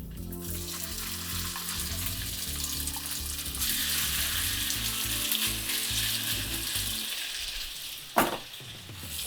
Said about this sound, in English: And if you hear the sizzle, it's good to go.